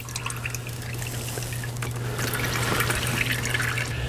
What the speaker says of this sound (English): So we're down to just a few drips left here